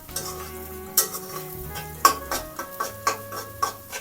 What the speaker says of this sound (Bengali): এবার সমস্ত মশলাগুলো ভালো করে মিশিয়ে একটু কষিয়ে নেব